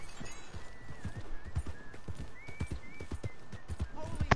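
A horse in the Red Dead Redemption 2 Online video game gallops with rhythmic, soft hoofbeats and a brief whinny near the end, under a faint steady musical tone.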